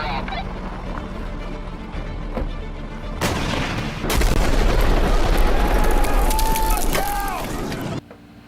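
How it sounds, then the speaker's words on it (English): A vehicle disabled by an explosion on a prepper's driveway gives a loud sustained blast and roar that builds midway and holds before cutting off abruptly, with faint whistling tones near the end. "Pretty cool explosion."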